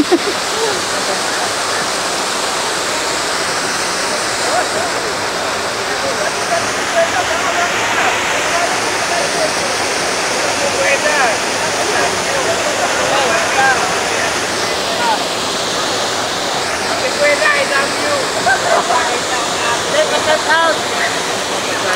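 Salipit Falls waterfall in Alfonso, Cavite roars in a steady, dense wash of rushing water for the whole stretch, with people talking faintly over the continuous pour.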